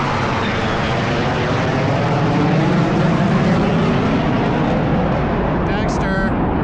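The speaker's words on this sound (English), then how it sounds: "Those jets piss me off." A jet aircraft roars overhead on a hike with a dog, a loud, sustained rumbling wash that swells and slowly fades, with a brief voice or whistle near the end.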